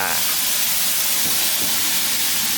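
Holy basil, coconut shoots, shrimp and pork stir-fried in a wok, making a loud, continuous, steam-like hiss and sizzle with faint scraping underneath.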